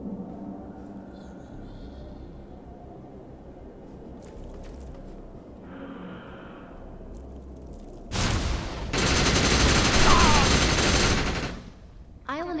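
Overcharged gunfire rips at projections in the Defiance video game, a loud burst of rapid automatic shots lasting a few seconds after quieter game sounds and faint speech, then cutting off abruptly.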